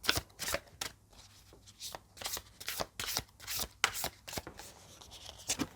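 Tarot cards being shuffled and drawn, a quick run of crisp riffling and snapping card bursts at close range, fairly quiet, with short pauses between the flurries.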